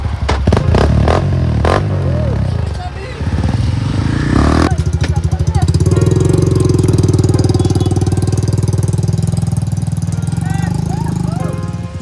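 Motorcycles ridden in the rain start up with sharp clattering knocks, then an engine revs and settles into a loud, steady close-up drone that fades slightly near the end.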